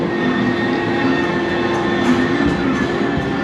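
A B&M inverted roller coaster train, Silver Bullet at Knott's Berry Farm in California, rumbles past with a steady, loud rolling roar and faint clatter that holds for several seconds, and nobody speaks.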